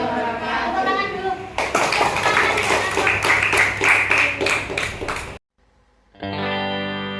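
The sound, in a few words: audience clapping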